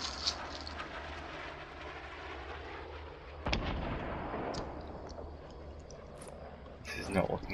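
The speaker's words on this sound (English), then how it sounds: "there's a ridiculous amount of guided rockets flying around" Guided rockets streak overhead and burst in a chaotic video game firefight, with a heavy rumbling blast around the midpoint and scattered sharper hits near the end, all under steady background noise and players talking.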